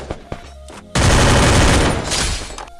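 Gunfire in the mobile game Free Fire: a couple of light shots first, then a loud, dense automatic burst lasting about a second and a half before trailing off.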